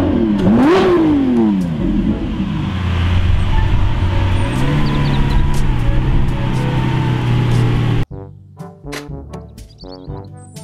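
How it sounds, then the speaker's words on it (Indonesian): Toy race car engine revving loudly with a rising, wavering whine for about eight seconds, then cutting abruptly to quieter music-like tones. "Mobil balap."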